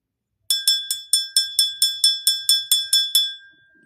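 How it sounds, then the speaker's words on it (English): A small bell rung for cleansing a space, struck in a quick even series of about thirteen bright, ringing strikes, each decaying briefly before the next, the last tone fading out after a few seconds, clear and close with no talking. "the bell started off with a little bit of hesitation"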